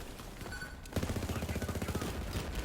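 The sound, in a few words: Overlord gun firing in Borderlands 3 video game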